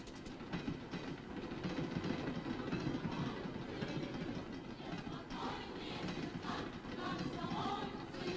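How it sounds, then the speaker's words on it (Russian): A train pulls out of a station at a 1955 send-off for settlers heading to new lands, with steady rumbling, wheel clatter and a dense background wash, continuous and fairly close. "Поезд ушел вовремя"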